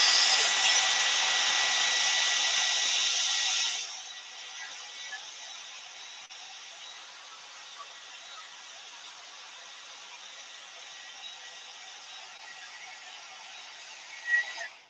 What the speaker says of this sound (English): my hair dryer.